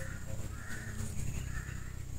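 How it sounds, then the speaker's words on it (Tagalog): A crow caws repeatedly against a steady, fairly loud background hum, the harsh calls recurring through the short stretch. "pag yung klaseng tunog ng uwak, kakaiba yan"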